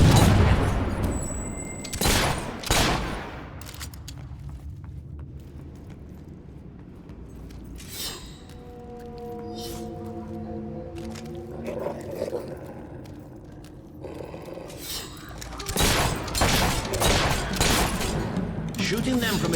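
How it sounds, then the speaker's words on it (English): Gunfire in the video game Fable 3, loud bursts of shots near the start and again toward the end, with quieter game ambience and a voice talking in between. "Shooting them from a distance is a good idea."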